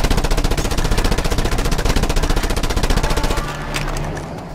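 A mounted machine gun in the video game Just Cause fires a fast, rapid, continuous burst of loud gunshots for about three seconds, then stops, leaving a lower rumble and scattered impacts.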